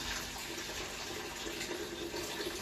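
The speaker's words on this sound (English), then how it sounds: "Give it a stir." Home brew being stirred after hot water is added, a steady close sloshing and swirling of liquid that runs without a break, with no voices.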